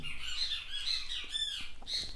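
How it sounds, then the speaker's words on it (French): Birds squawk outdoors in a busy, overlapping chorus of shrill calls with a few sharper chirps, steady and moderately distant throughout. "Les oiseaux qui font la foire dehors."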